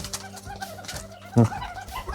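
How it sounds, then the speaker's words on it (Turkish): Soft, low turtle-dove cooing against outdoor background noise at a Kangal dog breeding farm, with one brief louder call partway through. "Burada da kumrularımız var."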